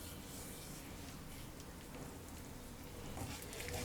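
Poppy seeds sizzle and fry in hot ghee in a frying pan, a faint, steady crackling hiss much like light rain, with no talk.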